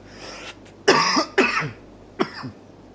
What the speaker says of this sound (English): I've been trying to hold that cough in for ages